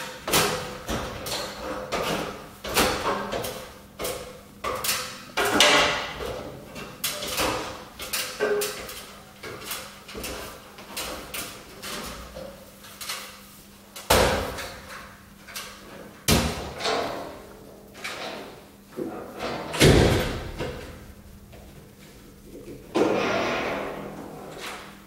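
Aluminium heavy-duty attic ladder being pulled down and unfolded, a series of loud metallic clunks, thuds and slides at irregular intervals, with some softer rattles in between.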